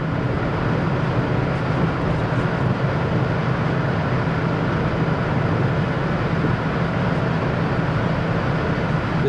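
Inside a Mercedes GLA200 at around 200 km/h, wind rushes over the glass roof as a loud, constant broadband roar mixed with road noise, steady and unbroken, with no talking.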